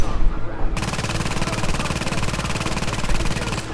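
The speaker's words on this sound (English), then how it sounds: "grab that turret again. There, and hopefully it'll shoot the guys up there." A mounted turret machine gun in a video game fires a long, sustained burst of rapid, evenly spaced shots, loud and close, running for several seconds.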